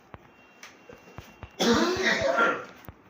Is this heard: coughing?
yes